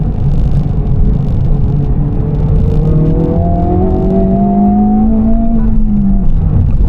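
A Honda Civic Type R FL5 pulls hard from inside the cabin, a loud, steady engine drone rising smoothly in pitch as it accelerates through the gear over road rumble.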